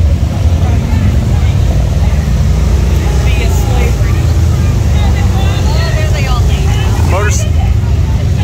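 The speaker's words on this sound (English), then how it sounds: "First time I've ever seen a motorcycle gang like that." Loud, continuous roar of many motorcycle engines riding past close by, revving and droning without pause.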